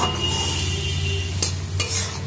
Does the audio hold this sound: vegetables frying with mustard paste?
yes